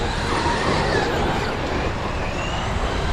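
Two Traxxas XRT RC cars race outdoors, their electric motors and tires making a continuous, fairly loud broadband rush with no clear pauses or distinct passes.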